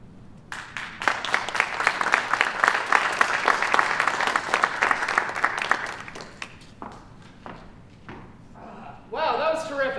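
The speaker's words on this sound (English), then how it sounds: "let's give another round of applause" An audience in an opera house applauds with dense, loud clapping that gradually thins out into scattered claps, followed by a voice speaking near the end.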